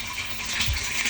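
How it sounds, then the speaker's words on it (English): A steady, thick stream of water is pumped by a very small pump into a tank, producing a continuous close rushing and splashing sound with no voices. "you can see it's quite a steady thick stream of water coming in, and I'm using a very small pump to do that"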